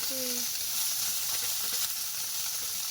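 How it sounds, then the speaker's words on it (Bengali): Small river fish frying in a little oil, a steady close sizzle and crackle holding evenly throughout, with a brief high whine near the start. "একদম অল্প তেলে মাছ দিয়ে লাগবে"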